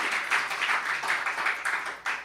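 A church congregation claps in appreciation of a pastor, Dr. Hong, producing dense, rolling applause from many hands at moderate distance, with no speech over it.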